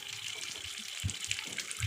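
Tap water gushing through the pipes of an LG front-load washing machine, a brief, steady rushing flow with soft low pulses, up close.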